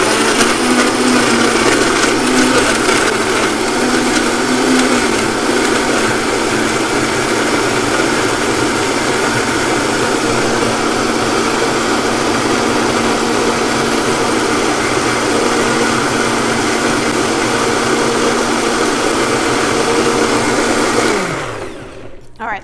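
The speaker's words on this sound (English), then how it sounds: "So we are going to blend this, and I may need to adjust." A countertop blender runs loud and steady for about twenty seconds, churning a green smoothie of kale and arugula with a constant whirring drone, then winds down abruptly at the end.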